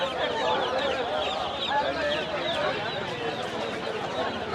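Baby chickens for sale at a rural river-island market cluck and cheep continuously and fairly close, with people talking over the busy poultry noise.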